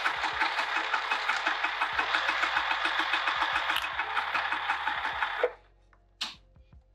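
A sewing machine runs a fast, steady stitch through fabric for a scrap-fabric coaster, close and loud with a rapid mechanical chatter for about five seconds before stopping, followed by a few handling clicks.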